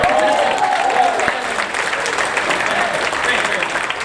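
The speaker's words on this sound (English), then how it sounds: "that's where you clap, right there" Audience applause at a live magic show, a steady wash of clapping lasting several seconds with a voice speaking over it.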